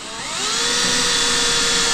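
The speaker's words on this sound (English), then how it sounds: "All right, drilling the first hole." A power drill spins up and runs at a steady high whine, close and loud, drilling continuously.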